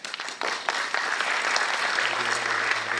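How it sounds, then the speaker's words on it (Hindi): An audience bursts into sustained applause at a talk on ancient civilization and culture, with the clapping building quickly and continuing steady and full. "अभी आपने तालियां बजाया"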